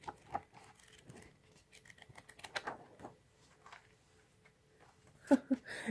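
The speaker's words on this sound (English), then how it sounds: "I just wanted to have some lovely page turning." Soft, close papery rustles and light taps as book pages are turned one by one, with quiet, irregular handling sounds between them in an otherwise hushed room.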